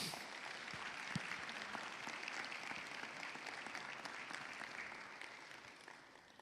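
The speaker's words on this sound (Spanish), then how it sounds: "Denle un fuerte aplauso al que vive y reina." A church congregation applauds during a sermon, a continuous, even roar of many hands clapping that holds steady at a fairly low level and tapers slightly at the end.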